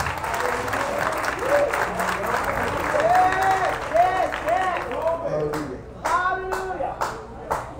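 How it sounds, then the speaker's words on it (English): A church congregation claps hands together at a homegoing funeral service, many hands striking in a steady, close, fairly loud rhythm that thins to scattered claps near the end, with voices and singing running underneath. "Come on and clap your hands."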